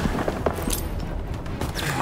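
Gunfire aimed at infantry near a tank in the World War II shooter Call of Duty: WWII crackles in dense overlapping bursts of shots and booms, with a continuous battlefield rumble underneath.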